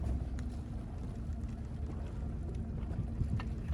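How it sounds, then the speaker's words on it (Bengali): Fishing trawler out at deep sea during hilsa fishing, a steady low engine drone with wind and water wash, continuous and fairly close with no talk over it. "জাল টানতে টানতে আমরা দেখছি একটা ট্রলার আমাদের দিকে আসছে"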